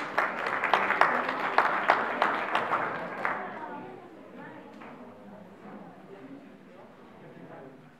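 An audience applauds Renate and her dog Pongo with dense, steady clapping that ends abruptly after about three seconds, followed by quieter crowd murmur and scattered sounds.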